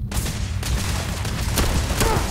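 Pistol fire in the video game Starfield: a few sharp shots spaced apart over a constant, loud rumbling backdrop of game noise.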